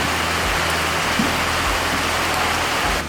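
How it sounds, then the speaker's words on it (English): Steady rain pours down outside on a quiet day at home, a dense, even hiss of drops on surfaces that holds unbroken and fairly loud throughout, with no voices. "Guys, it's raining."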